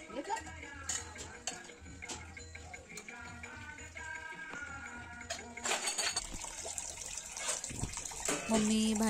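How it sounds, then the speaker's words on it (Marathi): Water runs from a household tap to fill containers indoors during a morning home cleaning routine, a steady splashing stream with clinks of vessels, growing louder and brighter toward the end. "पाणी वगैरे भरून घेतलं."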